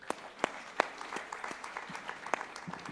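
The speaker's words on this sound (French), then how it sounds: "Il n'est pas interdit de l'applaudir lui aussi" Faint audience applause for a company director at a foundation event, steady soft clapping with a few sharper individual claps standing out, heard from a distance.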